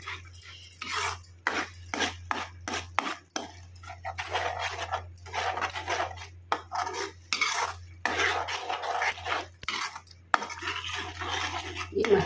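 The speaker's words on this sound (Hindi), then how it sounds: "तो अब इसमें हम डालेंगे ये देखिए ये पिसी हुई पालक, और इसको मिक्स कर देंगे।" A utensil stirs ground spinach into cooked masala in a pan for palak paneer, making repeated close scraping and clinking strokes in irregular bursts with short pauses between them.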